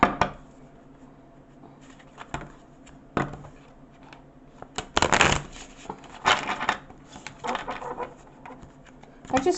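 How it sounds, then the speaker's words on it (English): A deck of tarot cards is shuffled and cut by hand, with close, intermittent riffling and flicking bursts and soft slaps, the loudest clusters in the middle and later. "Spirit's telling me to cut the deck."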